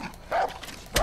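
A dog in the video game Far Cry 5 gives a few short, sharp barks and yips in quick succession.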